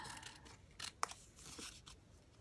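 Scissors snip through altered sewing pattern paper in a few quiet, close cuts with one sharper snip near the middle, soft and brief against a faint room background.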